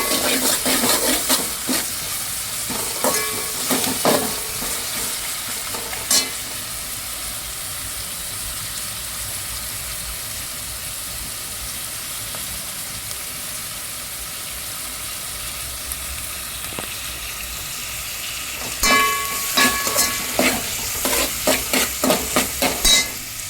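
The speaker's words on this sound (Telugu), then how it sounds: "చూడండి, ఆనియన్స్ వేగుతున్నాయి కదా." Onions sizzle and fry steadily in a pan for prawn biryani, a continuous hiss broken by louder bursts of stirring and scraping near the start and end, with no talking.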